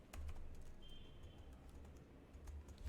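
Keys click on a computer keyboard in quick, light taps, faint and close, with a short burst of typing and no other sounds.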